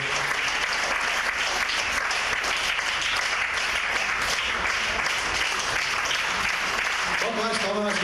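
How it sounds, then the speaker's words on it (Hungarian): Large audience clapping loudly and continuously at a Hungarian live event, a dense wash of applause lasting several seconds, with a voice starting to speak at the very end. "Nagy tapsunk nekünk!"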